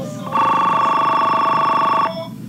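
A single telephone ring sounds loudly and close, a bright electronic bell tone that starts abruptly, holds steadily for under two seconds, and cuts off, with no talk over it.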